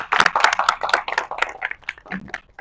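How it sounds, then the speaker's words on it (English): Audience at a human rights symposium in Nigeria clapping for a speaker, a dense burst of close, loud applause lasting a few seconds. "Please clap again for Remy."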